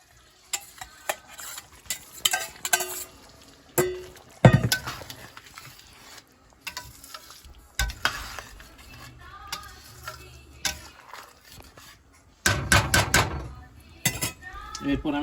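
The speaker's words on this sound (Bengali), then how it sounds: "তারপর আমি বেগুনগুলো ছেড়ে দিব।" Brinjals are added to a pan of spiced tamarind and jaggery gravy for Hyderabadi bagara baingan, with irregular close clatters of a spoon and pan, brief sizzling bursts and soft stirring scrapes.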